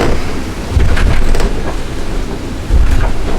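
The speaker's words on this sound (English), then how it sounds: "Have a bit of a squall here." A squall hits a sailboat under staysail, with steady rain and wind roaring across the microphone and two loud low rumbling bursts of thunder or gusts, close and continuous, with no talking.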